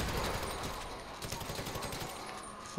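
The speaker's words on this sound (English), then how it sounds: "Are the cops shooting through the thing?" Rapid bursts of police gunfire in the GTA video game, a dense, steady crackle of shots filling the whole moment at moderate loudness.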